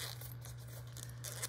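Zipper of an inexpensive Gig Case for a Qudelix 5K DAC/amp pulled open around the case: a continuous close rasp over a low steady hum, with no voices.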